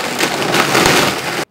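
A blender blitzes ice with juice and sweetened condensed milk, a dense grinding, crunching roar that runs loud and steady for about a second and a half, then cuts off abruptly.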